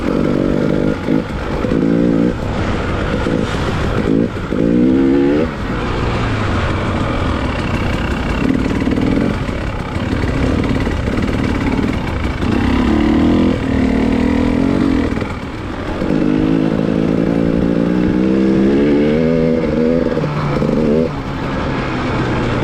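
Dirt bike engines ride along a packed snow trail, loud and close, revving and easing off repeatedly in uneven bursts with a constant rough drone underneath.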